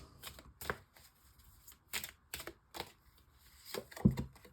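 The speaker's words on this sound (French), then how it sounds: "Je vais quand même mettre une autre carte sur" Tarot cards being laid out on a table, a string of short, distinct soft slaps and flicks spaced irregularly, close and quiet with near silence between.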